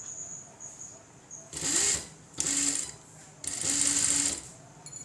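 A sewing machine stitching a line along the folded side of churidar fabric runs in three close, steady bursts with brief pauses between them, over a faint constant hum.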